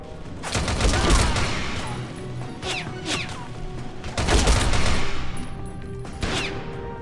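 Rapid gunfire bursts in the mobile shooter game Frontline Commando: Rivals, loud sustained volleys with short lulls between them and sharp impacts scattered through.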